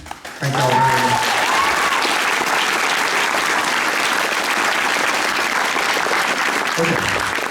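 A seated audience applauds loudly and steadily for several seconds, with a brief spoken voice heard at the very start and again near the end.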